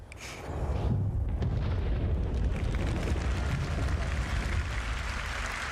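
A Star Citizen video game explosion with a shockwave erupts in a loud rolling boom that swells quickly and rumbles on for several seconds, heard alone without talking.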